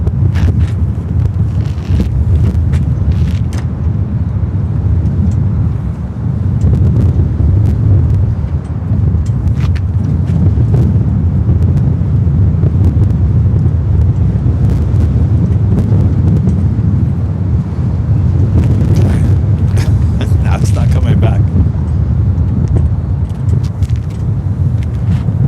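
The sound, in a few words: strong wind blowing on the microphone at LAX airport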